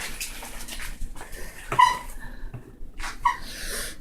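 A dog waiting for a snack whimpers and yips in short, soft bursts against an indoor background, near and moderately quiet.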